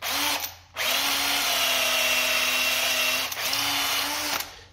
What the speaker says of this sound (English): And the barrel trimmer will trim it down.